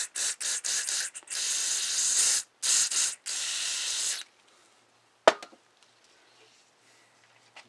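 Short bursts of aerosol cleaner hiss sharply through a Tecumseh snowblower carburetor, several quick sprays followed by a longer one, then quiet with a single small clack.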